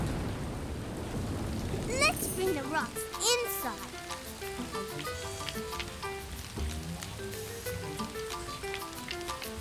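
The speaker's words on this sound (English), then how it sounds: "It's raining. We can play in the rain." Cartoon rain with a rumble of thunder under a children's animated scene, steady patter throughout while children's voices talk and music plays over it.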